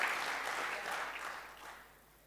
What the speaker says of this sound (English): it's a good time to clap for sponsors